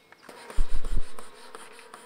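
Bees in California buzzing close by on a cold, rainy day, a steady insect drone with a few loud thumping bumps near the microphone.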